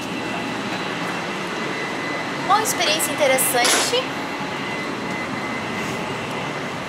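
Steady rumble and rushing hum inside a Japanese bullet train at speed, with someone speaking briefly over the continuous cabin noise.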